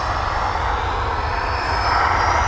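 A Boeing 737 departs Dublin for Liverpool with a loud, continuous engine roar, a dense unbroken blast carrying a rising whine over its short span.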